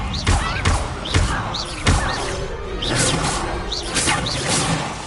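Spells cast in Hogwarts Legacy, Accio, Levioso and Incendio, fire off in quick succession as repeated whooshes and thuds with magical swells, loud and close over a dense game soundscape.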